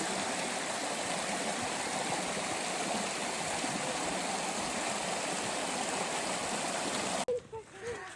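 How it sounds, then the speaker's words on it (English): A mountain stream rushes over rocks at a water crossing on a hiking trail, a steady close broadband wash that cuts off abruptly near the end, leaving a few faint sounds. "Water crossing!"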